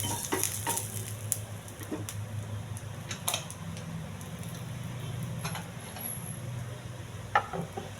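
Curry leaves and urad dal with cumin and chana dal sizzling steadily in hot oil in a pan during a tempering for carrot fry, a continuous close frying hiss with occasional stir clicks, no talking.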